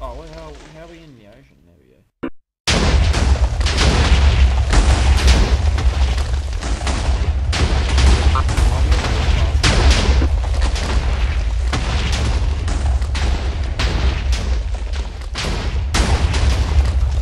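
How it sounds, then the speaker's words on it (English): Massive Minecraft explosion, a long, loud, continuous roar of booming blasts that keeps rumbling for over a dozen seconds after an abrupt start, with a voice speaking briefly beforehand. "It's still exploding."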